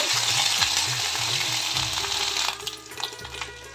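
Ash gourd dish with green chilli and ginger paste frying in a pan, a steady loud sizzle with scraping stir strokes that thin out toward the end, no voices.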